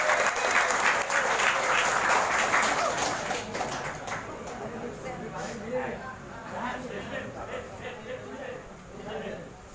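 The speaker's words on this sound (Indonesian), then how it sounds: "Tepuk tangan untuk Habib Jen." A crowd at a Maulid celebration applauds a Habib, loud and dense at first, then fading as a voice talks over the thinning claps.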